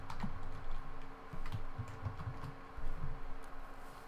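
Soft clicks of typing on a computer keyboard, entering Ruby code, come in a short irregular burst over a low background hum, faint and close.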